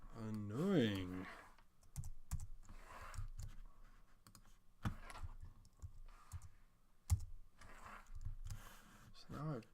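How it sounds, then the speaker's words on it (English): Quiet clicking keystrokes on a computer keyboard while typing Scala code in IntelliJ, in irregular bursts with pauses, with a voice talking softly over the typing. "So now I've typed that by hand."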